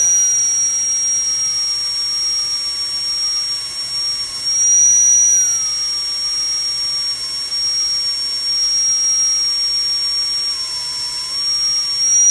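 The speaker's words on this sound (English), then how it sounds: "Now we're running the tool wide open, about 33 psi, somewhere in there, and I've got my foot all the way down on the pedal" An air-powered knife engraving tool runs wide open at about 33 psi with the foot pedal fully down, giving a loud, steady high-pitched whine that wavers slightly in pitch throughout, with no talking.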